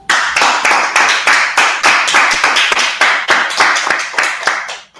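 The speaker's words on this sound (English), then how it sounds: "Clap it up." A small group of people clap in a steady, even rhythm, loud and close, with the claps fading out at the end.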